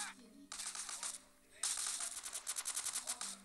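Automatic gunfire in the video game GTA San Andreas, a burst of rapid shots, a pause, then a longer run of quick, sharp, evenly spaced reports, fairly close, with low hum beneath.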